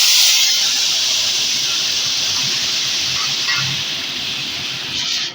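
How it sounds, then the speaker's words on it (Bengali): A chili and cumin paste thinned with water hits a hot pan and erupts into a loud, bright steady hiss that slowly softens over several seconds. "এখন আমি এই যে লঙ্কা আর জিরা বাটাটা জল দিয়ে গুলিয়ে দিয়ে দিচ্ছি"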